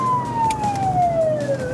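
West Midlands Ambulance Service emergency vehicle siren sounding during a 999 call-out, a loud steady tone sliding slowly downward over low road rumble, no talking.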